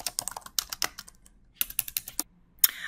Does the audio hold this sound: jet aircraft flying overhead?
no